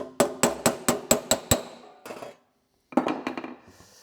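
Sharp metallic taps hammer out a dent using the end of a vise, a fast run of about eight evenly spaced hits, then a pause and a second quicker flurry, close and loud with no talk.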